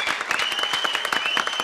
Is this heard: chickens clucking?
no